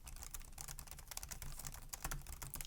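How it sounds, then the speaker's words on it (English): Typing on a Lenovo Yoga 910 laptop keyboard: a quick, continuous run of soft, quiet key clicks with shallow, cushioned bottoming, close up and without any talk. "I actually did not expect the typing experience to be that good"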